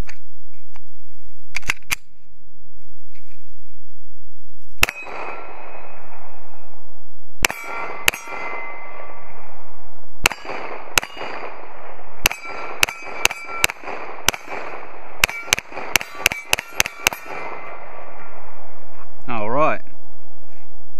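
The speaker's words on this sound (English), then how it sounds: "Let's dirty up some paint." A Glock 34 Gen 4 pistol fires at paint targets outdoors. Loud, close single shots come at spaced intervals, then speed into a rapid string before the magazine runs out.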